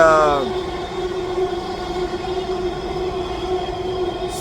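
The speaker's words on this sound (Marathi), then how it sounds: "मेट्रोच्या आवाजामुळे आपल्याला मध्ये मध्ये थोडासा ब्रेक घ्यावा लागेल" A metro train passes close by in Navi Mumbai near the new airport, giving a steady, loud electric whine over a low rolling rumble that holds for several seconds.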